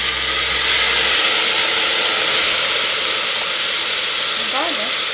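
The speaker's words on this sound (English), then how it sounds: "Once the oil has heated, we will add in the tomatoes" Tomatoes hit hot oil and set off a loud, continuous hiss and sizzle that stays close and steady all the way through.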